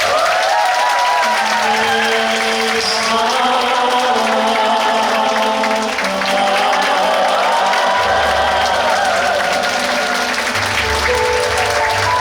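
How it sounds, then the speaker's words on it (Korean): An audience at a popera performance applauds loudly and continuously while sustained musical tones carry on underneath the dense wash of clapping. "여러분들의 큰 박수가 필요합니다."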